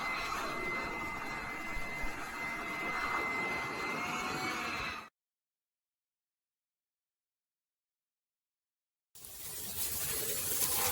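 A leaf blower clearing debris off a Cub Cadet riding mower, a loud steady whooshing roar that cuts out abruptly to silence for several seconds, then starts up again.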